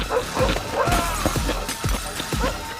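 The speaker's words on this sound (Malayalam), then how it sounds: "പകരം പട്ടികൾ ഫുൾ ഫാമിലിയായി കട തുറന്നു കയറിയല്ലോ" Several dogs bark in a quick run of sharp, loud yaps as they push their way into a small shop, the barks close and repeated over a busy background.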